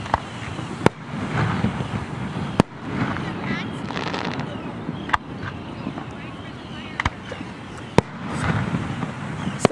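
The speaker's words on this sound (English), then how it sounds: "we're seeing some fireworks on a beautiful Wednesday evening in the dark on the beach" Fireworks bursting over the Jersey Shore beach at night, sharp distant bangs spaced a second or two apart with crackling between them, over wind and surf noise.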